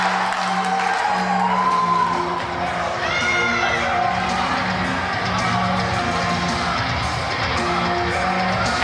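A wrestling crowd at an NECW indoor show cheers and shouts steadily, with whoops and yells rising over a continuous roar of voices.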